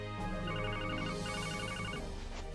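An electronic phone ringtone chirps in repeating bursts of a bright warbling tone, loud and close over a steady background, as an incoming call rings.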